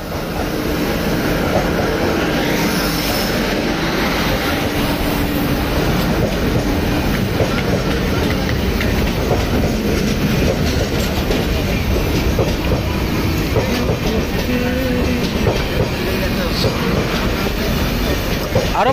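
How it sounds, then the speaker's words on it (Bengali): A train pulls into a railway station on a Puri trip with a steady, loud rumble and clatter of wagons that lasts throughout, with busy platform noise and a few voices mixed in. "এখন আমাদের ট্রেন মোটামুটি চলে এসছে।"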